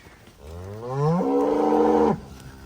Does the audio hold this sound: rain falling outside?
no